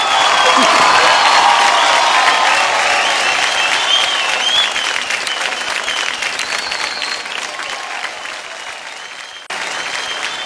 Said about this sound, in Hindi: Come on, जोरदार तालियां।